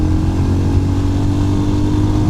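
A Royal Enfield Scram 411 scrambler motorcycle runs at full throttle in second gear, a loud steady engine roar with a deep thumping low drone, heard close and continuous with no talk.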